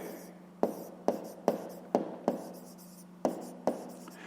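A pen scratches on paper while numbers are written out for a fifth-grade math exercise: about eight short, crisp strokes in an uneven rhythm, faint and close, with no talking.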